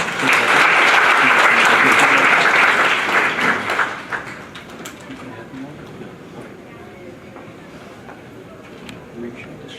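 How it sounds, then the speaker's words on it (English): A conference audience at a Hindu youth conference gives a loud round of applause that lasts about four seconds and then dies away to quiet room noise with scattered faint sounds. "So let's give a round of applause and hear about Gopalji's perspective."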